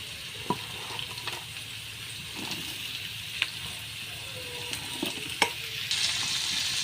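Sliced bitter gourd and potato hit a pan of fried onion, giving a steady close sizzle with occasional spatula clinks and stirring scrapes, with no one talking.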